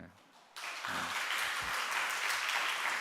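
Congregation applause at a Friday late-night church worship service, starting abruptly and swelling into steady, dense clapping that fills the room, with a few voices murmuring underneath.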